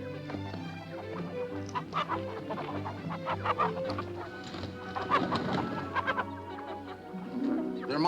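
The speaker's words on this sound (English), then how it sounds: "They're my hens." Hens cluck and murmur close by in a barnyard, a busy cluster of short throaty calls over a low steady hum, with occasional louder squawks.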